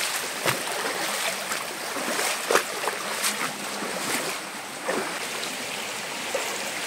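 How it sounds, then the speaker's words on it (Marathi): Gently gurgling stream water flows over slippery stones in a quiet wilderness spot, a steady close rush with a few soft splashes throughout and no one talking. "आणि झुळझुळ वाहणारं पाणी"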